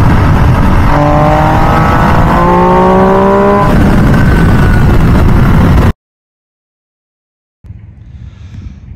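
A 2023 MV Agusta Dragster 800RR three-cylinder motorcycle engine revs hard at high RPM, loud and close with rising gear whine, then cuts to silence before a quieter rumble returns.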